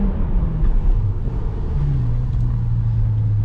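A Toyota Starlet accelerating hard with its tires spinning and wheel hop, the engine droning loudly and rising in pitch up close, with no talking.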